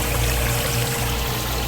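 Water rushes in a steady, loud, continuous flow through the spray tube of a Hoshizaki KM-2600SRJ3 ice machine running at low water volume, with no talking.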